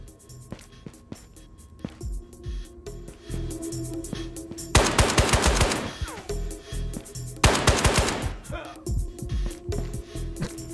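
Rapid automatic gunfire in the VR shooter Ghosts of Tabor, two loud sustained bursts of machine-gun fire between scattered single shots, with someone talking over the action.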